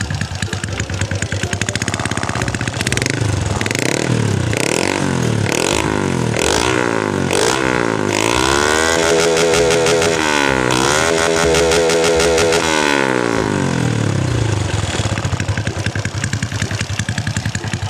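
A Honda Dream motorcycle fitted with a PYS exhaust is revved repeatedly, loud and close, with sharp throttle blips rising and falling over a running idle, then a longer held rev before it settles.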